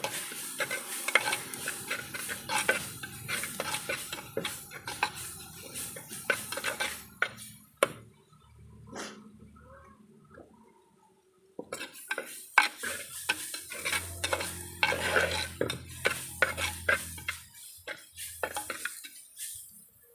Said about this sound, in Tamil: நம்ம அரைச்சி வச்சுருந்த இஞ்சி பூண்டு பேஸ்ட்டை போட்டு வசக்கிறோம்.